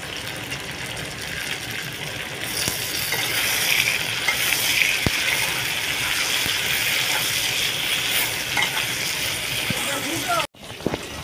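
Onion and tomato slices fry in a pan while fish fries on another burner, making a steady, fairly loud sizzle with a few sharp clicks and a sudden dropout near the end, and someone talks over it.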